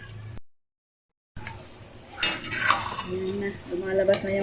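Chicken sautéing in oil in a pan for chicken sinigang, a soft sizzle with stirring scrapes after a brief silence, growing louder and close, with no voices.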